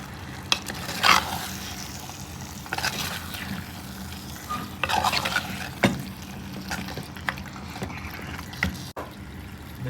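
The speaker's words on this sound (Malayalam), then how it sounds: "മസാല എടുത്ത് ഒന്ന് മിക്സ് ചെയ്യുക." Masala is stirred in a pan, with bursts of scraping and wet mixing over a low simmering sizzle, the strokes coming in irregular close clusters without any voices.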